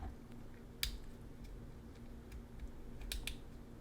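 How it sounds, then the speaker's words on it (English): Ratcheting leg joints of a DC Multiverse Superwoman action figure give a few sharp, close clicks, one near the start and a quick pair toward the end, over a low steady hum. "there's some ratcheting in the legs"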